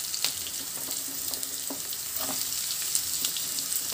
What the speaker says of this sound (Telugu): ఇప్పుడు మనం కట్ చేసి పెట్టుకున్న బీట్రూట్ వేసుకుందాము